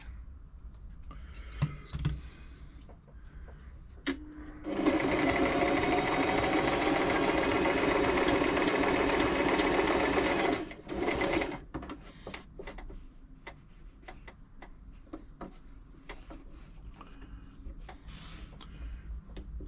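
Toyota Oekaki RS2000 sewing machine stitching fabric after a service, a steady close whirring run of about six seconds between quieter clicks and handling sounds.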